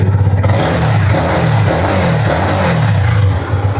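A 2023 Yamaha MT-15 motorcycle engine revs up and down close by, a loud throbbing growl that rises and falls continuously.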